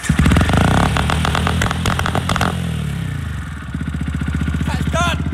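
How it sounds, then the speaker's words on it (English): A 125cc motorcycle engine roars at full throttle with a rough, clattering exhaust that pops and spits flames. It is loud and close, then settles into a steady throbbing idle with a voice briefly heard. "turn your bike on, full throttle, while it's on, and then you hold the starter, and that'll shoot flames out the back of your bike"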